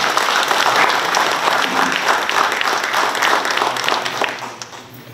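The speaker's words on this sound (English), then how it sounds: "please give him a big round of applause" Sustained applause from an audience honoring the Pohnpei governor at a formal state visit ceremony, steady dense clapping throughout that fades slightly at the end.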